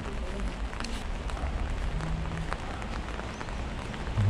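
Rain falls outdoors in Daegu, South Korea: a steady, even hiss of drops on surfaces that continues without a break at moderate loudness.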